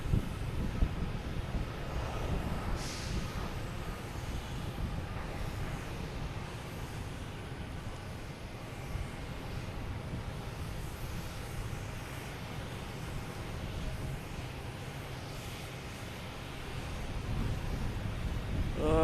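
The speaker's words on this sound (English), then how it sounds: "We have Alaskan Airlines here, heading to Seattle." Alaska Airlines jet airliner bound for Seattle at Boston Logan Airport, a steady distant engine rumble with wind buffeting the microphone, holding at a low, even level throughout without any talk.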